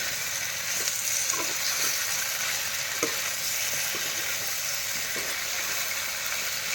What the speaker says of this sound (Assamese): এটা আলুটো লগতে দিলো আলু দি আৰু ভাজি আছো